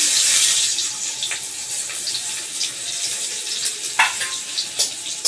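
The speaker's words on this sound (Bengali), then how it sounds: "মরিচ এলাচ লবঙ্গ দারচিনি একসাথে দিয়ে দিলাম ফোড়ন হিসাবে রসুন কুচি দিয়ে দিলাম" Chopped garlic with bay leaf, dried chilli, cardamom, cloves and cinnamon sizzling in hot oil for a chicken curry, a loud continuous hiss with crackling pops and some stirring.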